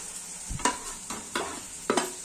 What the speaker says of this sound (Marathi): तर 2 मिनिटांसाठी याला फ्राय होऊ देऊया।